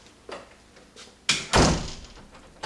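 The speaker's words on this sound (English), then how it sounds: "Let's see how it latches." A door fitted with a newly installed keyed entry knob swings shut, a couple of light taps followed by a solid thunk as the latch catches in the strike plate, close and loud.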